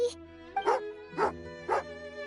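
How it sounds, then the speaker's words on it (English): A hostile dog in a video game barks four times in a steady rhythm, each bark clear and close over a faint background hum. "Oh, angry doggy."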